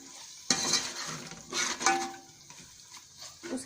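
Chicken pasta with soy sauce and chili sauce being stir-fried in a pan, with a broad sizzle, scraping and clinking of a utensil stirring against the metal in a few close bursts.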